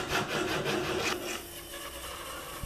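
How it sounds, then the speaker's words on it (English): A tenon saw rasps through wood while squaring off the ends of a box build, quick close strokes of scratchy sawing that slow and fade toward the end. "And that's squaring off the ends now with my tenon saw."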